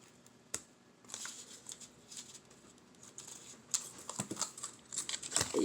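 Paper cut with scissors for a handmade no-sew journal: close, quiet crinkles and repeated snipping and rustling in an uneven rhythm, getting a little busier toward the end.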